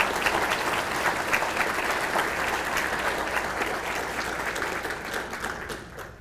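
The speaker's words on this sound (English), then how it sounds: "Let's have a great round of applause for Michael." An audience at a hall of fame induction ceremony gives a warm, sustained round of applause, a dense, even clatter of many hands that fades slightly toward the end.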